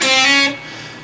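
A distorted electric guitar chord from a Van Halen song rings out loud and bright, then is cut short after about half a second, leaving a quiet decaying tail.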